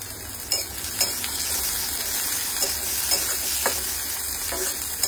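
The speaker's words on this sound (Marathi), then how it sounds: "गॅसची फ्लेम आपण हायस्ट ठेवली आहे आणि आता कांदे टाकले।" Two onions fry in oil over the highest gas flame, giving a loud, steady crackling sizzle with scattered pops and occasional stirring clicks.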